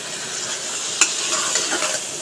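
Bottle gourd greens are stirred in a frying pan, a close sizzling hiss broken by a sharp utensil scrape and a few softer stirring strokes, with no voices.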